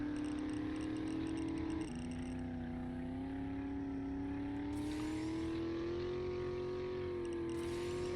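A car driven in a video game, its engine droning steadily throughout with a brief dip and shift in pitch near two seconds and scraping, crunching bursts later as the vehicle rams something; no talking.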